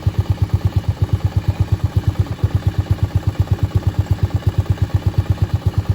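A Honda Navi motorcycle engine idles a little fast and rich, its steady, evenly spaced low thumping pulses repeating close up and loud with no talking.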